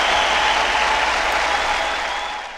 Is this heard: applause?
yes